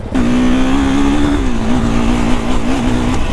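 A motorcycle engine roars loud and steady at close range for just over three seconds, its pitch holding high with small dips and rises as the throttle changes. No one speaks.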